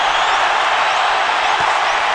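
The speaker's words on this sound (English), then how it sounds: "Crowd is going berserk." A boxing arena crowd roars and applauds during a bout, a dense, steady wall of cheering with no letup.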